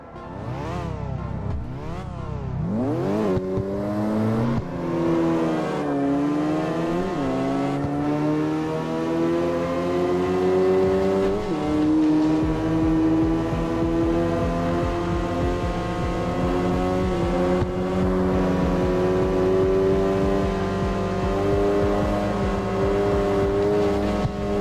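Car engines from the CarX racing video game rev and climb through repeated gear changes, a loud, continuous whine that rises and settles over about twenty-five seconds, with no talking.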